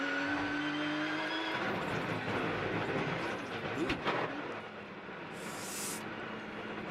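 Onboard a race car at the Rolex 24 at Daytona, the engine drones loud and close with rattling, grinding and clunking as the left rear suspension fails, then the tone changes and settles into a rougher roar.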